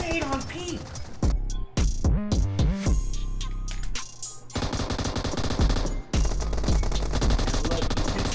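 Rapid bursts of UMP submachine gun fire in a competitive shooter match, crisp repeated shots in fast clusters mixed with other gunfire and game effects, loud and continuous, with commentators talking over it.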